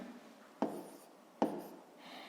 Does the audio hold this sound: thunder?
no